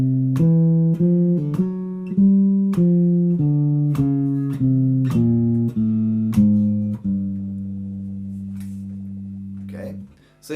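Jazz guitar playing a walking bass line with chords over four bars, steady quarter-note bass steps under plucked chord stabs, ending on a sustained chord; clean and close.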